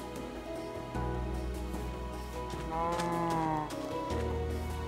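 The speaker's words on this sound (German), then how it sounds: "Ah ne, hier waren die Kühe." Cows mooing in Minecraft, several low drawn-out moos overlapping one another with game background sounds, close and clear, with no talking over them.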